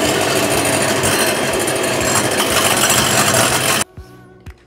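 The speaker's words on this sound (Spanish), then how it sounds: "lo que voy a hacer es batir a punto de nieve las claras." Electric mixer whipping egg whites to stiff peaks for a frozen cake, a loud continuous whir with rhythmic thumping against the bowl that cuts off near the end, leaving a few faint knocks.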